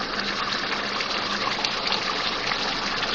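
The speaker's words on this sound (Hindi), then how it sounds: "अब मैं इसमें पानी डालूंगी आलू गलाने के लिए" Water gushes steadily into a pot of mutton and potato curry, a continuous splashing pour that holds for the whole stretch without pause or talk.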